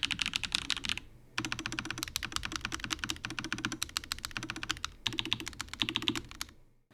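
Steady, rapid typing on a Redragon Dharma K740 Pro wireless aluminum gasket-mount keyboard with custom purple tactile switches, close and crisp, with brief pauses near the start and end.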